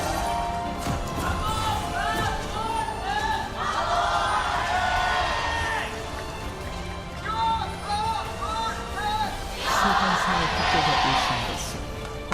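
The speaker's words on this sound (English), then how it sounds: "T1 fans extraordinarily loud, but we got a good cheer on the Kwangdong side of Lowell Park" A large esports arena crowd at an LCK League of Legends match between T1 and Kwangdong Freecs cheers continuously, swelling into loud roars around the middle and end, with a commentator talking over it.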